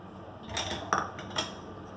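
Half a cup of vermicelli tipped into a pan of sheer khurma and stirred with a spoon: a few quiet metallic clinks and scrapes of utensil against the pan, faint and close, with no talking.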